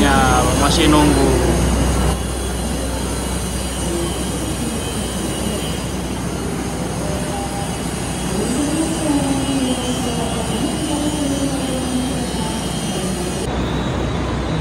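The Jayabaya passenger train, running from Malang to Pasar Senen in Jakarta, pulls out of Surabaya Gubeng station with a steady rumble of rolling stock, wheel squeals and a sustained hum throughout.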